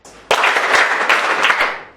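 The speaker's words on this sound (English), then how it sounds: "Are you clapping 3 times or 2 times?" Students in a secondary school maths class break into a sudden burst of loud group clapping that stays dense and even, then tapers off.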